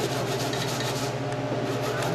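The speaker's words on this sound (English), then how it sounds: "I'm grating the coconut for the bulgur wheat" Fresh coconut being grated by hand for cooking bulgur wheat, a continuous rhythmic rasping scrape heard up close and fairly loud with no talking.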